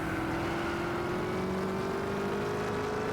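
A gold Corvette's engine drones steadily under heavy throttle in Gran Turismo 6, a loud continuous hum with a slowly rising pitch and no break.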